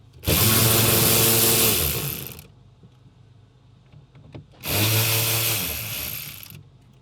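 A power tool runs in two loud bursts of about two seconds each, separated by a short quiet gap, while removing bolts from the dashboard of a 2011 Porsche Panamera.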